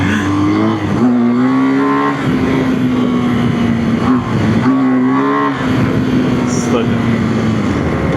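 A BMW GS adventure motorcycle on the highway, its engine droning loud and steady with rising and falling pitch as it accelerates, close up, under heavy wind rush.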